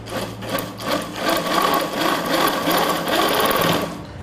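A domestic sewing machine stitches with its thread tension set wrong, running in steady rapid bursts that rise and fall slightly, loud and close with no talking.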